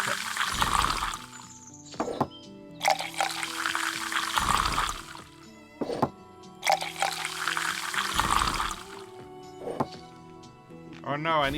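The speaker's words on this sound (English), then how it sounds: "I need to pour more cups." Drinks pour into cups in a tavern management game, several long gushing liquid pours, each a few seconds, separated by short clinks and pauses, loud and close with a voice talking faintly underneath.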